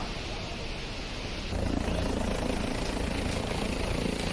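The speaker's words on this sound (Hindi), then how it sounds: "धीरेन्द्र शास्त्री हेलीकॉप्टर से यहां पहुंचे" A helicopter arriving at Badrinath Dham gives a steady, loud rotor and engine roar that swells sharply partway through and then holds at a constant close level, with no talk.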